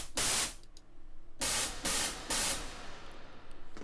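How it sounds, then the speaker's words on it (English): White noise run through Space Designer reverb in Logic Pro X, played in loud hissing bursts of different lengths separated by short gaps, with a smeared tail between bursts. "of white noise, and then what I've put on top of that is a reverb using the Space Designer within Logic as well"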